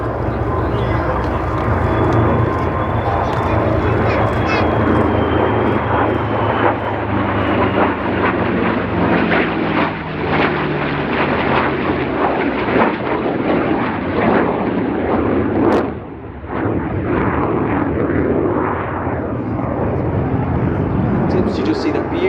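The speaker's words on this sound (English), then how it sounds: "He's bringing in for a few individual passes now just to give us some lovely jet noise" Lockheed F-35A fighter jet of the 495th Fighter Squadron making individual passes at an airshow, a loud continuous jet roar that swells and holds for most of the time with a brief dip, while a commentator talks over it.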